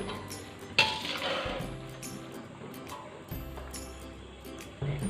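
A spoon stirs spaghetti ingredients dressed with a tablespoon of oil in a bowl, giving sharp metallic clinks at a few scattered moments over soft scraping and low background noise.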